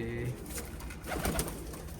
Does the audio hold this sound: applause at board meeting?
no